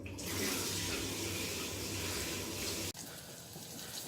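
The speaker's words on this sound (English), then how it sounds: "I need to wash my hands quickly." Tap water runs steadily into a kitchen sink during handwashing, a close, continuous splashing hiss that cuts off abruptly near the end and leaves a quieter room.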